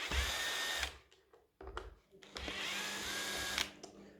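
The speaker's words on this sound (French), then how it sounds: "J'ai pris ma perceuse pour aller un peu plus vite." A power drill backs out screws from an upturned robot vacuum, running in bursts of whirring that stop and restart, close by and fairly quiet, with short pauses between.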